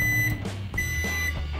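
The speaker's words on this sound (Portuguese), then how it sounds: "Eu vou colocar no micro-ondas de 30 em 30" Microwave oven running while melting chopped chocolate, a steady hum with a couple of short, clear electronic beeps, close by.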